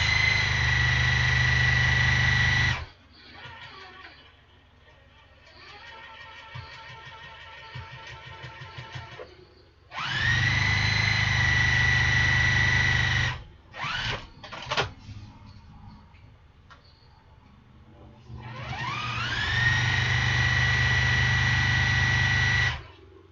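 An electric sewing machine top-stitching the flap of a handmade picnic basket, running in loud sustained whirring bursts with a rising motor whine, separated by quieter pauses with handling rustles and clicks.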